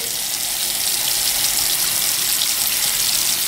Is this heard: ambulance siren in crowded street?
no